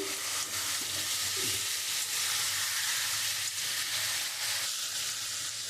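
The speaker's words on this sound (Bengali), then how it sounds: "আমার মশলাটা খুব ভালো করে আমি কষিয়ে নেব" Spice masala for a Bengali fish curry sizzles steadily in a pan, a continuous close, loud frying hiss with faint stirring scrapes throughout.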